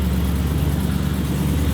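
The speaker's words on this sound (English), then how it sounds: "Just the sound of this Dennis McCarthy DodgeCharger pulling out, truly amazing." The Dennis McCarthy Dodge Charger, a Fast and Furious SEMA NASCAR-style build, rumbles steadily as it pulls out, a loud, close, deep engine drone holding an even low throb with no voices over it.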